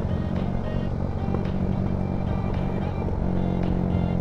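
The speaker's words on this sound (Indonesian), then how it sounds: "Cara simpel membuat knalpot jeblok-jeblok tanpa ganti ECU ataupun setting-setting yang lain." Honda Sonic motorcycle idling with an irregular exhaust, sharp pops and crackles breaking through a steady close engine rumble, several distinct bangs over about four seconds.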